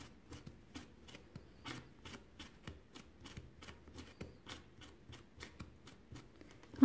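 A regular comb is dragged through the frayed ends of macrame cord on a keychain, giving a steady series of soft, dry scratchy strokes at close range with no talk.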